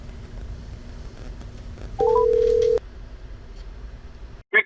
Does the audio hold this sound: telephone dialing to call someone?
yes